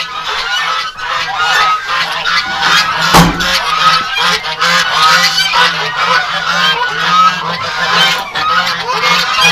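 Backyard geese honk repeatedly and loudly, a dense overlapping chorus of calls close by on a cold winter day, with no talking.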